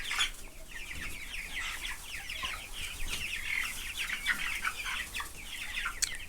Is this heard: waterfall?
no